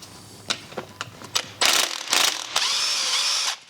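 A power tool works on the bolts of a BMW E60 M5 S85 V10 engine during rod bearing work, with several short clicking ratchet bursts followed by longer loud whirring runs, close by and with no talking.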